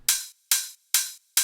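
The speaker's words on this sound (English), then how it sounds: "it's just one open hat right here" A single open hi-hat sample repeats four times in an even rhythm, each hit a bright, crisp sizzle that rings briefly and decays into silence, loud and dry with no voices.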